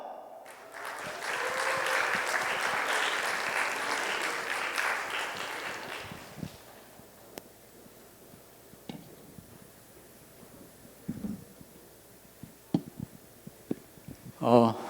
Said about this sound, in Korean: 우리 백창민 장로님 나오실 때에 큰 박수로 환영해 주시기 바랍니다.